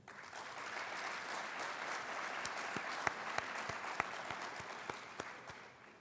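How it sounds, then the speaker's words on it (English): Applause from an audience at an armed services awards ceremony, steady sustained clapping with a few sharper individual claps, moderately distant and fading slightly at the end. "Let's have a round of applause"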